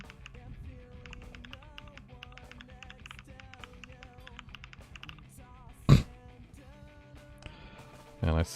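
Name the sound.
typing on a computer keyboard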